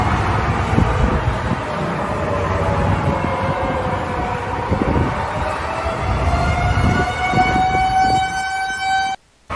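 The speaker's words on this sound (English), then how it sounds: "so that alarm is a tornado siren" A tornado siren wails loud and steady through a storm, its rising tone climbing gradually before cutting off abruptly near the end, with wind and rumbling noise beneath it.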